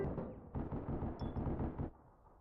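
Gunfire in the online shooter APB Reloaded comes as a quick burst of muffled, rapid thumping shots of moderate loudness, with a faint high electronic tone in the middle.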